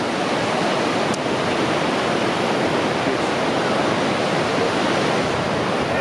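A waterfall in southern Laos roars in a dense, constant rush of falling water, loud and close, with no pauses and no voices.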